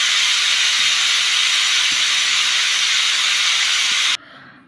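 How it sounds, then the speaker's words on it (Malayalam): A pressure cooker whistle lets out a loud, steady rush of hissing steam for several seconds, then cuts off abruptly, leaving a quieter background. "അപ്പോൾ അതാ കുക്കറിൽ നല്ല വിസിലൊക്കെ വന്നിട്ടുണ്ട്"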